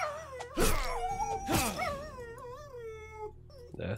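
A dog in the video game Black Legend whimpers and wails in drawn-out, wavering cries with a couple of sharp yelps, close and plaintive, trailing off into softer whines.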